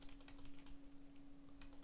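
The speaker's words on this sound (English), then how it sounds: "Sorry about the typing, I've got a microphone cable going across the keyboard." Computer keyboard typing with a microphone cable lying across the keys: quick, irregular soft clicks of keystrokes close by, over a low steady hum.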